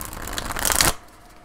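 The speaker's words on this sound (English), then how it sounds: "I think I want to give it one more shuffle" Tarot cards being shuffled by hand during a reading: a close, steady riffling and rustling that grows louder for about a second, then stops abruptly, leaving quiet.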